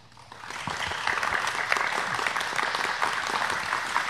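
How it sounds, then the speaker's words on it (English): Pre-recorded studio audience applause swells up over the first half second and then holds as steady, dense clapping with a few whoops, loud and continuous to the end, with no talking over it. "Can I hear a round of applause for..."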